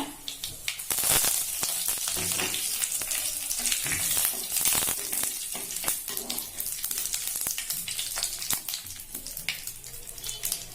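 Curry leaves sizzle and crackle in hot oil in a pan while coconut milk rasam is being made, a loud, dense frying hiss with sharp pops throughout.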